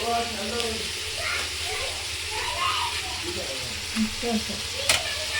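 Mint being stirred into dum biryani in a hot pan, a steady sizzle with scraping and stirring sounds, while a voice talks over it.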